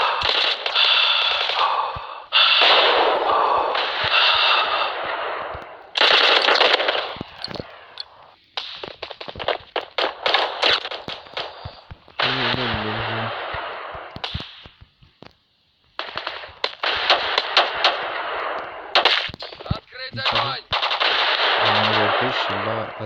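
FAMAS rifle gunfire in the shooting game Bullet Force, loud rapid bursts of automatic fire broken by short gaps, with scattered single shots and voices talking between the bursts.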